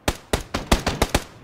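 Shots ring out in PUBG, seven sharp reports spaced in a quick, uneven rhythm, loud and crisp with nothing else behind them.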